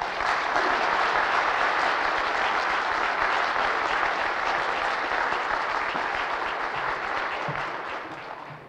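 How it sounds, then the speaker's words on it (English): Sustained applause from an audience welcoming a lecturer onto the stage at a religion discussion event in Nova Scotia, dense and steady throughout, tapering slightly toward the end. "give him a round Nova Scotian applause"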